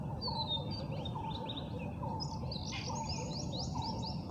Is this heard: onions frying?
no